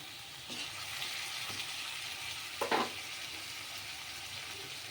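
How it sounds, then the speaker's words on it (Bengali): Spices sizzle in hot oil with tangra fish in a pan, a steady soft frying hiss with a brief louder crackle of stirring midway. "এখানেই মশলাগুলো ভাজা হয়ে যাবে, একসাথে মাছের সাথে মিশে হয়ে যাবে"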